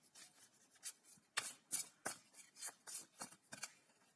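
A deck of tarot cards is shuffled by hand in a quiet room: a run of crisp, riffling bursts in an uneven rhythm, close and fairly soft, with no talk.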